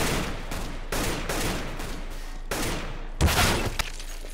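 Gunfire from the video game CS:GO cracks out in a rapid series of sharp, loud shots with short gaps between bursts, and no talk over it.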